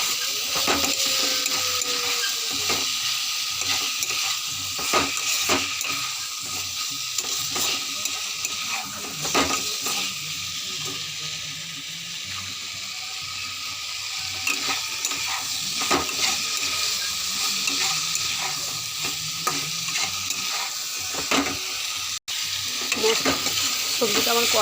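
Vegetables are stir-fried in a pan over low heat, giving a continuous soft sizzle broken by repeated scraping strokes of a spoon or spatula, with no talk.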